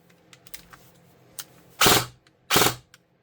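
A G&G SGR 556 airsoft rifle set to 3-round burst fires two sharp, rapid bursts close by, each a quick mechanical clatter, with faint clicks between them.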